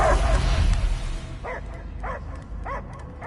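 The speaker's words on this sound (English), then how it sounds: "I hear only barking." A dog in the video game Guardians of the Galaxy gives a run of short barks and yips, four or five spaced barks close by. They follow a louder, rougher opening burst that may carry a brief voice.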